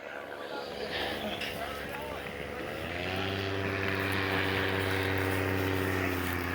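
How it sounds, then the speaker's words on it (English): A paramotor's engine and propeller buzz nearby over an airship field crowd at Cardington, swelling in partway through into a loud, steady droning hum, with faint voices in the background. "And there's a paramotor as well."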